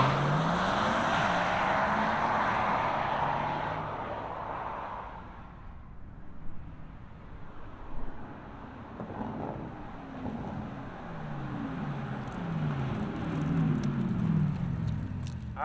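A 2024 Porsche Taycan Turbo S electric car gives a broad whooshing hum that fades, then pulls away with faint whine and rolling tire noise amid some wind, fairly quiet overall.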